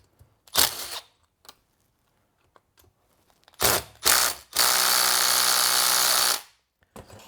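A part is worked loose from a seized Ryobi leaf blower with a ratcheting tool, giving a few short clicking bursts and then a long, loud, continuous ratchet run close by, with sharp mechanical clacks between quiet gaps.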